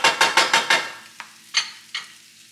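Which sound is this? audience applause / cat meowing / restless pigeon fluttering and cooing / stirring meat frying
stirring meat frying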